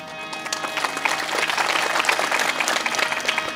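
An audience claps together at a Marathi public talk, a dense, sustained patter of many hands that holds steady and fairly loud for several seconds, with no voices over it.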